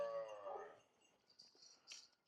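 A Sahiwal cow kept with her calf gives one drawn-out moo at the start that trails off, followed by faint shuffling and soft farmyard noises in a quiet setting.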